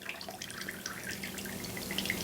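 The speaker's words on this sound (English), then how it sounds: "I have this empty Cool Whip bowl, and I'm just going to pour my syrup into this bowl." Syrup poured into an empty plastic Cool Whip bowl makes a steady, soft trickling and dripping stream, close and continuous for the whole stretch.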